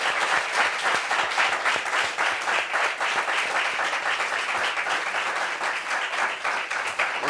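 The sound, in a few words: audience applause for a guest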